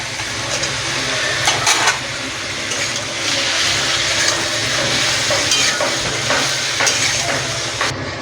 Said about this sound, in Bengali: এবার এই মশলাগুলো দিয়ে আর একটু ভালো করে আমি কষে নেব